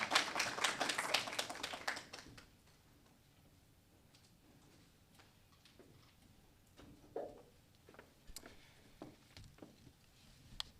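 Brief applause at a distinguished lecture, a short burst of clapping in the first two seconds that stops abruptly, followed by quiet with scattered faint taps and small knocks.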